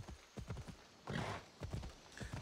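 Hooves of a horse clip-clopping in the Assassin's Creed video game, a steady, brisk trotting rhythm, fairly quiet, with a brief breathy snort or neigh in the middle.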